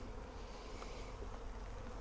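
Bees from a nuc hive being installed hum in a steady, faint buzz that continues unbroken, with no voices over it.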